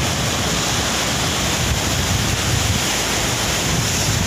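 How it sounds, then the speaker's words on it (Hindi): Fast-moving sea water surges at a ship-beaching shore in Alang, a loud, continuous roar of waves and rushing current with wind buffeting the microphone and no speech. "यहाँ पानी बहुत तेज आ रहा है, समुंदर का पानी लगने के लिए बहुत है"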